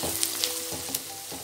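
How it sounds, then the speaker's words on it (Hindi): Onions sizzle steadily in a pan while being lightly browned for baingan bharta, a continuous hiss with a few faint clinks of stirring, close and alone. "इसको हम थोड़ा सा भून लेंगे"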